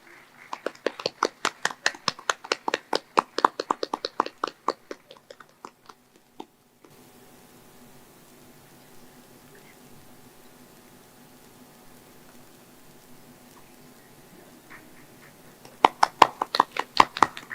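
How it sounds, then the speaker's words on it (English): Sparse applause at a startup expo, a small audience clapping near the microphone for several seconds, then a long hush and another short round of clapping. "Please everyone give a round of applause."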